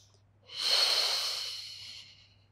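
A single slow, steady inhalation during a beginner pilates spine-mobility exercise, a soft airy breath swelling and then fading, close and alone with a faint low hum underneath.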